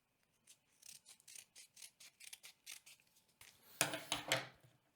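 Scissors snip repeatedly through kinesiology tape, a string of about a dozen short crisp cuts at a steady rhythm, followed by a louder, longer rustling cut near the end; close and clear with no talking.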